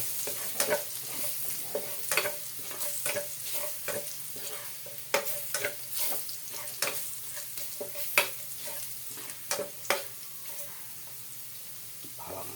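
Garlic frying in a pan with oil, a close sizzle broken by repeated scraping strokes of a spatula stirring at an uneven rhythm, with no one talking.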